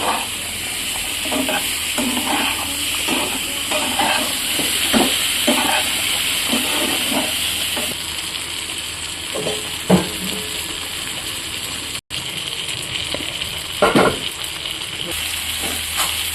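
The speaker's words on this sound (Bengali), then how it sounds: "এবার মশলার সাথে আলু বেগুনগুলোকে মিশিয়ে নেব।" Fried potatoes and eggplant are stirred with spices in a frying pan, producing a constant close sizzle and hiss broken by repeated scraping, clattering strokes of a spatula, with a brief sharp knock near the end.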